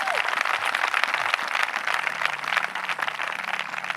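A large crowd at an outdoor evangelical crusade, Awandjelo for Jesus, claps and cheers loudly and steadily, with dense continuous applause and shouting throughout.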